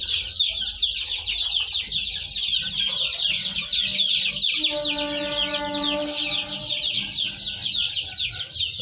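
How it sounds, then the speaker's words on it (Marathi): Free-range village chickens with a rooster in a brooding shed full of chicks, giving dense continuous high peeping and clucking, with a longer tonal rooster-like call rising through the middle, fairly close and steady. "कोंबडा आहे बघा"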